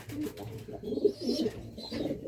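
Soft, low racing pigeon coos repeat in a loose, murmuring rhythm at night on a pigeon farm, a few birds close by, with faint background chirps.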